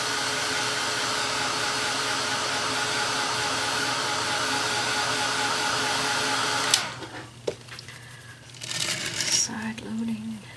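Hair dryer blowing on acrylic paint during a painting session, a steady loud whirring drone that cuts off abruptly partway, followed by faint clicks and rustling handling noises.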